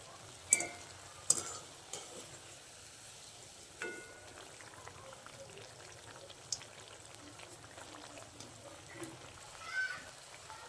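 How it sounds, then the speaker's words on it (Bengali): Bitter gourd pakoras frying in a pan over a low gas flame give a soft, steady sizzle. A few sharp clicks and knocks stand out against it. "গ্যাসের ফ্লেমটা কম রেখে পকোড়াগুলো ভাজতে হবে"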